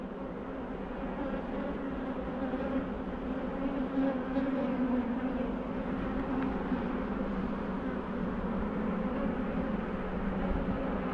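Honey bees crawl calmly over the hive frames while it is opened for inspection. Their buzzing is a dense, continuous drone held at an even, close level, and no voices can be heard over it.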